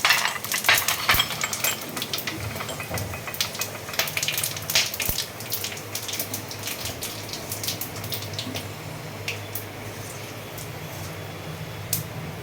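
Bay leaf, dried chillies, whole garam masala and cumin sizzle in hot oil in a kadai, a soft continuous crackle with scattered sharp pops and occasional spoon scrapes, loudest at first and then settling.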